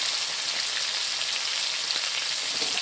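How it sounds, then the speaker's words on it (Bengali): Washed vegetables frying in spice paste give a dense, even, close sizzle like rain on a surface, steady throughout the short stretch with no talking. "মশলাটাকে বেশ সুন্দর করে কষে নিয়েছি এবারে সবজিটা দিয়ে দিচ্ছি আমি"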